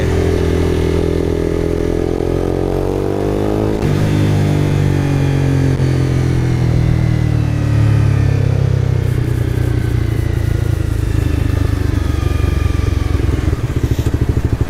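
Honda CBR 250R motorcycle ridden in second gear, the engine loud and close with a steady droning note that rises, drops at a shift, then climbs again, wind rushing over it.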